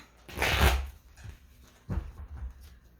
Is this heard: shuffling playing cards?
yes